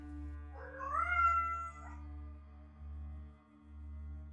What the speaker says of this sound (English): And supervising, as always, is Vega, the cat.